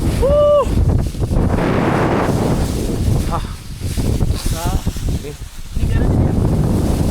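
Cold wind gusts steadily across the 3142 m summit of Mount Agung in Bali, buffeting the microphone in a loud, continuous roar with a few brief whistling tones near the start.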